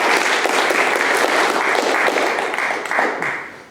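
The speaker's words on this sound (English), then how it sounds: "will you please applaud?" An audience claps together in a full burst of applause that holds steady and then tapers off slightly toward the end.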